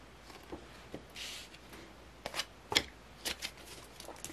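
Tarot cards being shuffled by hand, giving quiet, irregular papery riffles and taps, with a cluster of sharper card snaps toward the end.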